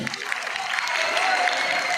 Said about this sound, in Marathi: आपण सर्वांनी जोरदार टाळ्या होत्या